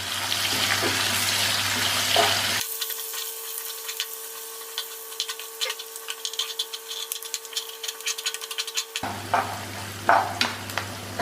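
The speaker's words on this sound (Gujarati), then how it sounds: "હવે તેની અંદર એક મીડિયમ સાઇઝની સમારેલી ડુંગળી નાખીશું અને 1 થી 2 મિનિટ જેવી સાંતળી લઈશું" Chopped onion sautéing in a pan: close sizzling and frying crackle at the start and end, with a stretch of stirring and scraping clicks in between.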